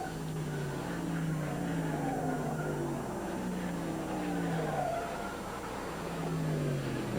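Small block race cars roar around a dirt track in a steady, distant, continuous drone, with several engines overlapping and sweeping in pitch as they pass.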